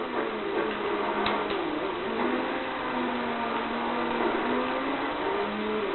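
A Peugeot in a rally video game drives on, its engine droning steadily with gentle pitch shifts, a faint muffled hum with a couple of small ticks and no talk.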